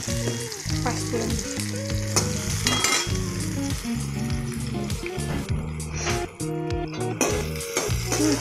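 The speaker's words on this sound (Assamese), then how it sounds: "এনেকৈ এইখিনি ভাজি ল'লোঁ।" Whole cinnamon sticks and panch phoron spices fry in hot oil in a pan, giving a loud, close, continuous sizzle broken by repeated scraping stirs, with no voices.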